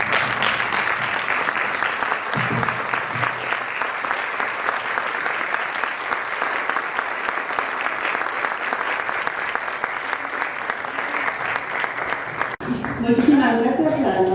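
Sustained audience applause at an academic talk on educational dropout, a dense steady wash of many hands clapping for the disappeared, continuing evenly before giving way to a few voices talking near the end.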